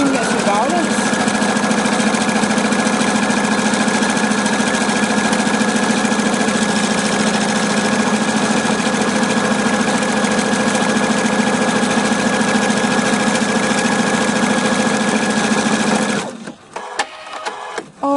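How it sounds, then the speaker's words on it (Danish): A Husqvarna Viking sewing machine runs steadily and loudly for about sixteen seconds while stitching a buttonhole in reverse, then stops with a few brief mechanical clicks. "Så starter min symaskine her til baglæns."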